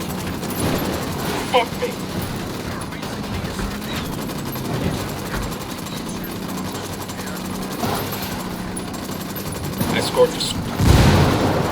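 Gunfire in the video game Ghost Recon: Wildlands, scattered shots and bursts bursting out at intervals under a steady bed of game noise, with players talking over it and a heavier blast near the end.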